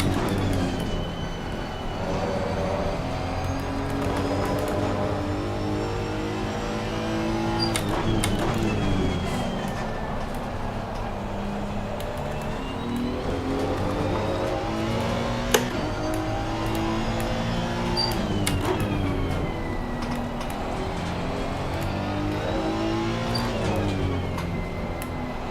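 A race car engine lapping Valencia in the Assetto Corsa Competizione video game, a steady loud drone rising and falling through gear changes over a long stretch, with a voice talking at times.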